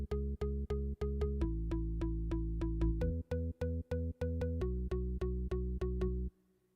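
Self-made electronic track led by a staccato organ riff, with short chords repeating in a steady, even rhythm and shifting pitch every few bars; a deep bass tone sits underneath before the riff stops and leaves a faint tail.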